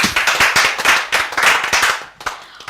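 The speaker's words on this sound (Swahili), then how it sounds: "haya makofi ya the Burros" Audience clapping on a talk show, loud, quick, irregular hand claps from a group that build and then thin out toward the end, with no speech.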